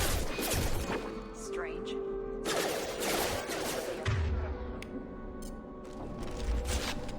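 Gunfire in the video game Mass Effect 2, several bursts of shots with game effects, mixed under a voice speaking briefly.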